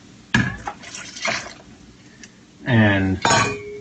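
Coconut water from a young coconut pours into a blender jar in a home kitchen, a short splashing gush followed by a longer pouring burst, close and loud, with brief clinks and a voice speaking between.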